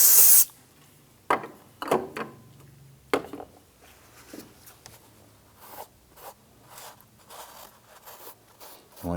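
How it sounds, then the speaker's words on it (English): Spray solvent hissing onto an intake gasket sealing surface, starting with a loud spray burst followed by quieter wiping and brushing scuffs in short irregular strokes. "I'm going to use some spray solvent and clean up the face here of where the intake gaskets are going to seal."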